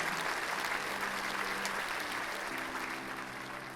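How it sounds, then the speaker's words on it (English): Warm, sustained applause from participants and teams at a final pitch event. A faint tonal hum, likely background music, runs beneath it, and the clapping fades slightly toward the end. "So please have a round of applause for yourselves as well and your teams."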